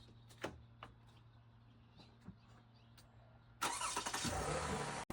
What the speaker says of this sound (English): I'm going to turn on my car.